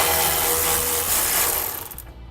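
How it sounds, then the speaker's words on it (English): A 13mm socket ratchet or power driver works on a spare tire support bolt under a 2015 Chevrolet Colorado, a loud, close, continuous whirring that slows into a brief ratcheting chatter before stopping. "We're going to need to remove those 2 bolts. I'm going to be using a 13mm socket."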